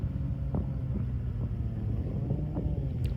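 Honda Goldwing motorcycle engine held on a steady throttle through a turn, a continuous low rumble with slight rises in revs, heard from a distance outdoors.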